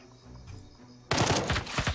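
A gunshot goes off in the tactical game Jagged Alliance 3. After a second of quiet background, one sudden loud blast rings out and is followed by a rumbling echo that fades unevenly.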